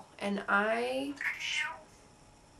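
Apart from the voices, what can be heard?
cat meowing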